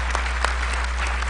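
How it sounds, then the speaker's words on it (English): Dense applause from a town hall audience, steady and sustained, with a low hum underneath. "So please, another round of applause."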